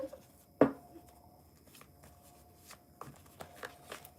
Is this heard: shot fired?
no